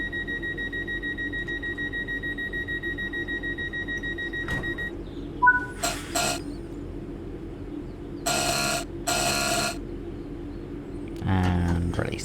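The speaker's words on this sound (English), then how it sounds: "Close the passenger doors." Train passenger doors closing in the Train Sim World 5 driving game on the Glossop Line, with a cab hum, a few electronic warning beeps and tones, then a mechanical door motor whir and clunk near the end.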